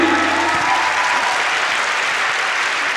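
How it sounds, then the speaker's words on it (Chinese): An audience at a 2022 Taiwan strongman competition claps in a dense, even burst of applause that holds steady for a few seconds, with a low murmur of crowd beneath. "掌声鼓励。"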